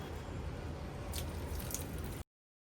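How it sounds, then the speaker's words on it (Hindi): Water poured onto potted plants makes a continuous, fairly close splashing hiss with a few small drips and gurgles, then stops abruptly into silence. "सबसे पहला काम मैं आज कर रही हूँ पौधों में पानी डालने का"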